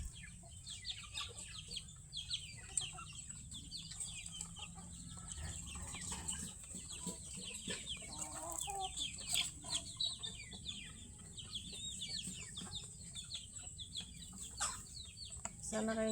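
Chickens and chicks in a farmyard keep up steady overlapping clucks and soft peeps throughout, with bird chirps scattered over a constant low background rumble.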